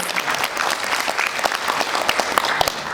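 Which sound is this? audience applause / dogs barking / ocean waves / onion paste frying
audience applause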